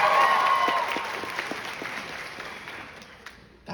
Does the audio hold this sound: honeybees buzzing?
no